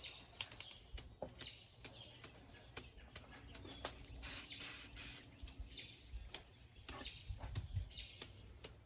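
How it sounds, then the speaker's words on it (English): Quiet, irregular bursts of fine spattering clicks and sprays as paint is flicked onto a canvas, scattered across several seconds with soft pauses between flicks. "we're gonna flick it and just spray it all over our canvas here"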